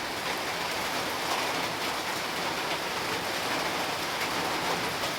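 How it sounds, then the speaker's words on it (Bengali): A downpour of heavy rain keeps up a loud, unbroken wash of falling drops, a steady roar with no break and no one speaking. "আর নাইমা বলছে বৃষ্টি, এই বৃষ্টি তো মনে হয় না বৃষ্টি কমবো"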